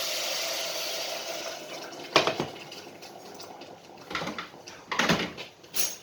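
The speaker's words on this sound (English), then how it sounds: "I'm going to add a little bit of corporation stock, or some boiling water" Boiling water is poured into a vegetable curry with sweated-down spices, giving a rushing, splashing pour, then a few sharper bursts of liquid and clatter close by, with no one speaking.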